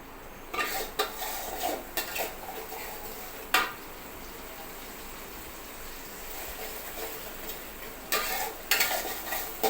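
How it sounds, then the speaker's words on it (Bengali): Masala spices fry in a pan for a raw jackfruit vegetable dish, a low steady sizzle under irregular clinks and scrapes of a spoon against the metal pan, with clusters of stirring near the start and end. "মশলা সুন্দর করে কষিয়ে নিতে হবে"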